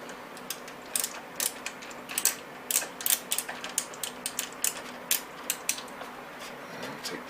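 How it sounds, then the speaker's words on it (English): Screws unscrewed from a computer case with a screwdriver, a run of light ratcheting clicks and ticks in uneven rhythm, close and fairly quiet, with no voices. "unscrewing the actual screws that hold it into the actual system"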